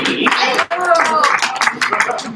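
A small group claps briefly in scattered bursts, mixed with people talking and reacting.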